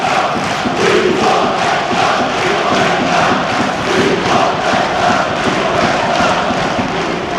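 A large football crowd chants in protest at the coach in a stadium, Blackburn Rovers supporters at Ewood Park, a loud, steady, rhythmic roar of many voices throughout with no clear single speaker.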